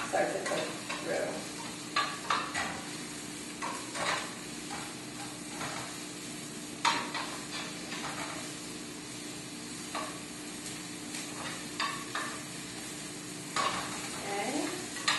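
Mushrooms sauté in a pan for vegan lasagna, a soft continuous sizzle broken by repeated scraping stirs and light clinks of the utensil against the pan.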